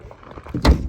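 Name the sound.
door of a 1965 notchback car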